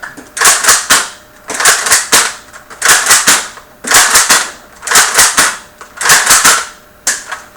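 Old toy foam dart guns fire in six quick bursts, each a cluster of sharp snapping pops and clacks separated by short pauses, loud and close with no talking.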